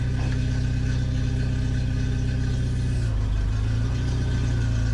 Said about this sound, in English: Sounds just like the normal Jeep.